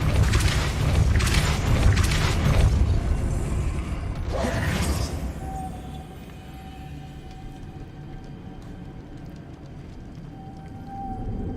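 A Depulso spell cast in Hogwarts Legacy sets off deep booming, creaking magical rumbles and a whooshing burst, then settles into quieter game ambience with a faint sustained tone.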